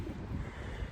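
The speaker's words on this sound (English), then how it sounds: "it's still kind of stormy and windy" Wind on a stormy day, a short burst of low rumbling gusts buffeting the microphone, steady and fairly faint, with no voices.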